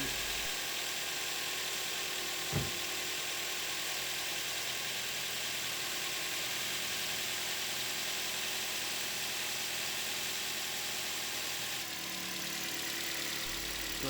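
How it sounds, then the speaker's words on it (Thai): 2014 Toyota Altis engine idling after its fuel injectors were replaced: a short sharp start transient, then a steady, moderately loud mechanical hum runs on evenly with no voices. "พอน้ำมันดันขึ้นมาเป็นรางหัวฉีด เครื่องยนต์ก็สามารถสตาร์ทติดได้ตามปกติ"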